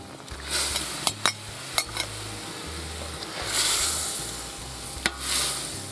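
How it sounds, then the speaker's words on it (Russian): Pieces of young lamb go into a boiling kazan of onions and peppers, setting off a steady bubbling sizzle. Sharp metal clinks and scraping from a utensil against the pot come at irregular intervals. "Когда это все закипело, отправляем туда наше мясо."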